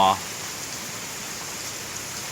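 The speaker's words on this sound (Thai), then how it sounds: "เนี่บรรยากาศนะครับฝนตกหนักมากครับ" Heavy rain pours down steadily around a house in Nan, Thailand, a dense, even hiss that fills the whole stretch after a brief tonal sound at the very start.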